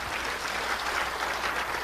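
A church congregation clapping together, a continuous, even patter of many hands at steady loudness throughout.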